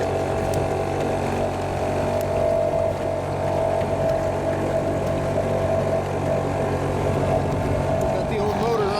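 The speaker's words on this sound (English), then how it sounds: "Got the old motor running." An old outboard motor running steadily on a canoe during an October canoe trip, a continuous droning hum with a high whine, loud and close throughout, with faint talk underneath.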